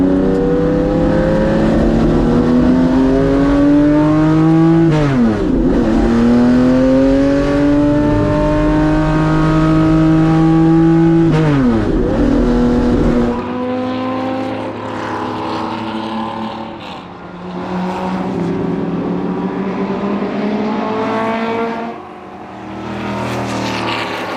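Classic race cars from a 45-car field lap the Dijon-Prenois circuit, loud engines wailing and shifting up and down as they pass close by, one after another, with the roar fading and returning.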